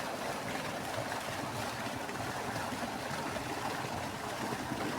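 Water rushes from an electric water pump motor running on a two-fuse power supply with a starter, a loud, close, continuous gushing roar with no pauses and no voices.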